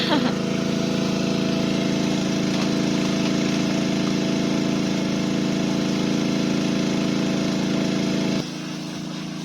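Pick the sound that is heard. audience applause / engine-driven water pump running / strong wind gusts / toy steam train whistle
engine-driven water pump running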